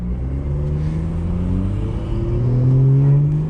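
A car's exhaust comes in through open windows while driving. A close, steady engine drone slowly rises in pitch and grows louder toward the end, with no voices over it.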